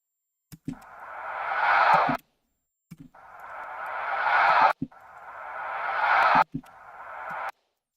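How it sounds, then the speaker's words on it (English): A stretched, swelling synthetic whoosh repeats three times, each rising in loudness then cutting off abruptly, with clicks before each pass and silence between. "And let's stretch the sound a bit."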